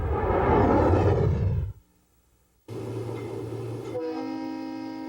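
A Conrail train runs loud and close on the rails, then cuts out briefly, and a sustained, steady horn blast follows.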